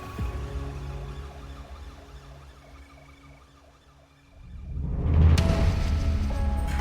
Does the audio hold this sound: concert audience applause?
no